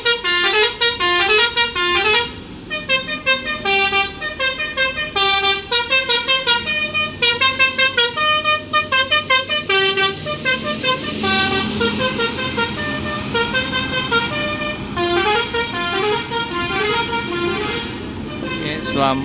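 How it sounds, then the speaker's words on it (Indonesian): PO NPM bus unit V66 pulling out of a bus terminal in the morning, with a loud, long, melodic multi-tone horn playing repeated musical phrases throughout, steady and close. "terlihat unit NPM V66 Tuan Muda sudah mulai bergerak meninggalkan terminal"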